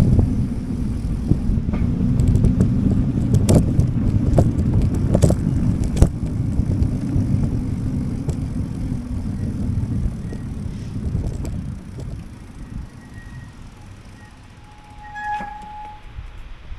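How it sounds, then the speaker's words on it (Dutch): Gusty autumn wind buffets the microphone on a rainy town street, a continuous low roar that eases toward the end, with faint traffic and a brief high tone near the close. "Momenteel aan het regenen, er is ook wel redelijk veel wind."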